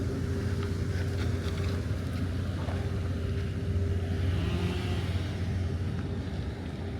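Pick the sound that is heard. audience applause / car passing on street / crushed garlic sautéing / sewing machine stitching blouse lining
car passing on street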